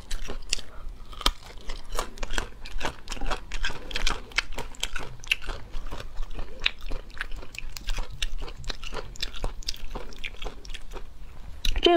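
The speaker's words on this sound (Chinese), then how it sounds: "配点万能的蒜蓉辣酱看看怎么样，蘸酱菜。" Close crunching and chewing of raw vegetables dipped in garlic chili sauce: crisp bites and wet mastication repeat in quick irregular bursts with no talking.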